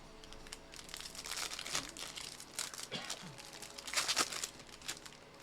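A bunch of paper handled up close, crinkling and rustling in irregular bursts, with a couple of louder crumpling swells, amid faint background noise.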